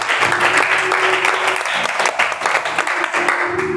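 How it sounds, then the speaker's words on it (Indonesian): A church congregation claps together in sustained, loud applause at a service, a dense steady patter lasting throughout with faint voices underneath. "kasih tepuk tangan dulu DOCC."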